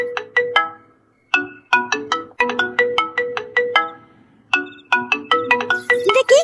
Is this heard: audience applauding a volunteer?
no